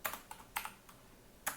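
Typing on a computer keyboard while writing Python code: about six crisp, close key clicks at an uneven pace, quiet and with no voice.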